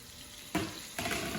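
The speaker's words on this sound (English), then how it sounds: "I'm gonna drain the pasta real quick." Pasta water drained from a hot metal pan, two quick splashing pours with a sizzling hiss, faint and close, each starting abruptly and running on briefly.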